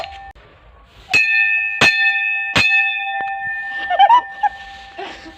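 A child rings a temple bell on Basant Panchami, three sharp metallic strikes spaced under a second apart, each leaving a bright ringing tone that fades, followed by nearby voices.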